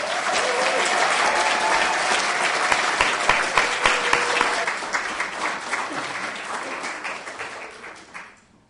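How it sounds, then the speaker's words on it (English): An audience at a disability awareness event claps for the 2018 Advocate of the Year: dense, loud applause that holds for several seconds, then thins into scattered claps and fades out. "Please give a nice round of applause for the 2018 Advocate of the Year"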